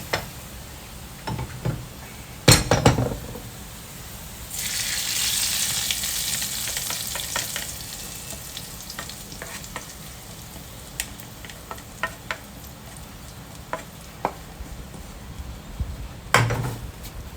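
Onions fry in a pan until brown, with a soft steady sizzle that swells midway, punctuated by sharp spoon knocks and scattered ticking clicks of stirring.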